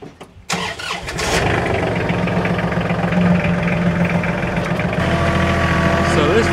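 A tractor engine cranks and starts, then settles into a loud, steady rumbling idle close by, with a voice speaking over it.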